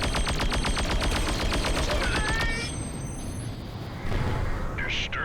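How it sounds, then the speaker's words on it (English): In the 2006 PC space game DarkStar One, a ship rapidly fires its guns at a pursuing raptor ship in a dense burst of repeated shots, then it quiets to a rumble before a short whooshing surge. "This one that I'm about to shoot up?"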